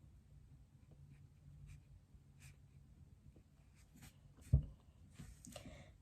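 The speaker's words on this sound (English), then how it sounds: "So I will write my name at the top." Pencil scratching out a name on paper in short, quiet strokes, with faint breathing and a louder tap partway through, close to the microphone.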